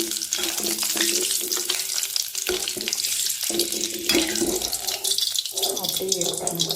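Mixture snack pieces deep frying in very hot oil, a dense continuous crackling hiss with bubbling, steady and close, while a voice talks over it.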